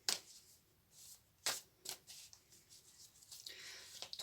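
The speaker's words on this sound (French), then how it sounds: "Je vais prendre une deuxième carte." Oracle cards are shuffled and drawn by hand, giving several crisp riffling bursts and soft card snaps spaced irregularly, close and fairly quiet, with no voices.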